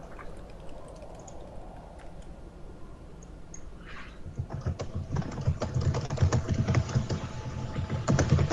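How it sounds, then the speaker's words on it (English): Typing on a computer keyboard while a Mass Effect game runs, the key clatter growing denser and louder in the second half over a steady low background. "It's gotta be the typing."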